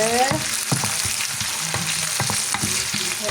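Onions sautéing in a pan sizzle loudly and close up, with a spoon scraping and tapping in an irregular rhythm and no one talking.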